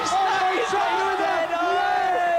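A studio crowd at a televised gaming contest yells and whoops in a loud sustained roar, voices overlapping continuously and close throughout.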